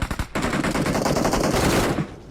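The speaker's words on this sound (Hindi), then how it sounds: "अब दूर से भी गोली चल रही है" Rapid automatic gunfire rattles loudly and continuously for about two seconds in a shooting video game, a dense burst of close shots with no talk.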